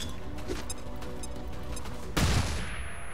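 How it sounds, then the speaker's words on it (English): Flashbang grenade in XCOM 2 goes off as one sharp, loud burst followed by a ringing tone, after a stretch of busy game noise with scattered clicks. "Flashbang!"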